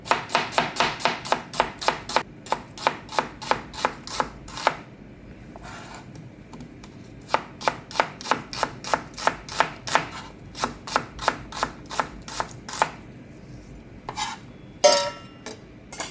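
A knife slices an onion thinly on a cutting board for turmeric chicken. The sharp taps come in quick, regular bursts with brief pauses, close and fairly loud, and nobody speaks.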